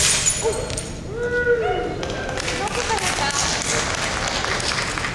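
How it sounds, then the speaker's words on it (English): An audience claps at a convention stage show, quick scattered claps building into steady applause while someone talks loudly over the start. "Oh, wait, you guys are clapping."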